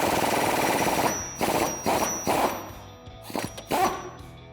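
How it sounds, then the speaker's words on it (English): A pneumatic impact wrench loosens the body bolts on a Jeep Gladiator JT, giving one long rattling hammer burst followed by several shorter bursts that come close and loud, with brief pauses between them. "I'm also going to use a pneumatic impact wrench in order to do this"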